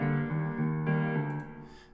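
Piano part from a pop song, programmed in FL Studio, with sustained chords and a low repeating note pattern shifting a few times over two seconds, ending with a faint high shimmer.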